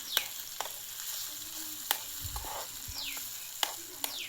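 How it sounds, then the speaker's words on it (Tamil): Ingredients with tomato and chilli powder sizzle steadily in a pan, with scattered stirring clicks and scrapes over a constant, fairly quiet fry. "வதக்கி விட்டுக்கலாம்."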